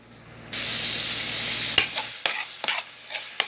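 Ground turkey sizzles in a pan with a steady frying hiss, joined by a run of sharp scraping and tapping hits as the meat is chopped apart with a utensil, each clack distinct and near.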